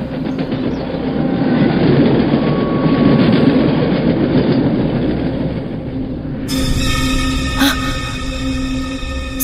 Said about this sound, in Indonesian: setelah kereta api itu melintas